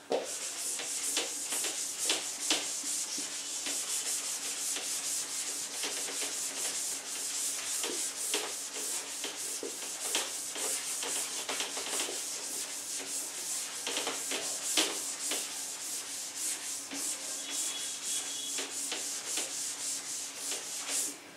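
Dry, continuous rubbing of a classroom board being wiped clean, a steady scratchy swishing with brief stroke accents, close and alone without talk.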